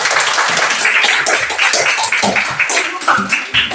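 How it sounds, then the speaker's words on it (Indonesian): Classroom applause for a student group after their presentation, a dense burst of many hands clapping together for several seconds, close and loud. "Tepuk tangan untuk kelompok 2."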